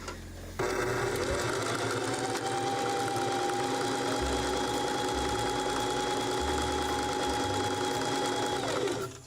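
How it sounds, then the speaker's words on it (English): A sewing machine stitches fabric pieces together in one continuous, steady, close run of rapid mechanical whirring and ticking, starting abruptly and stopping near the end. "I'm gonna sew these together"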